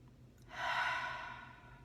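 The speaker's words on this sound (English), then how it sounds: "So a couple of nice deep breaths." A single slow, deep breath is drawn close to the listener, a soft airy rush that swells and then gradually fades, alone in a quiet room.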